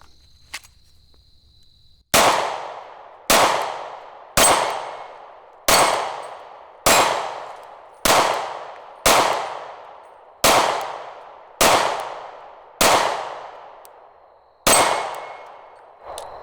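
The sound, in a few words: pistol shots from a P365, likely hitting steel targets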